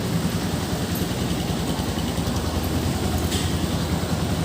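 A Honda TMX 125 motorcycle engine idling after being started for a battery voltage check, a steady low mechanical rumble with constant level and faint high hiss, no talking.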